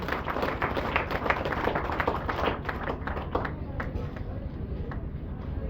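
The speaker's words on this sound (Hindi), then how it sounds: "एक बार जोरदार ताली हो जाए करण लड़ैया के लिए" Audience clapping at a branch opening ceremony in Manjhiaon, steady close-up applause from a crowd sustained for several seconds, with some voices underneath.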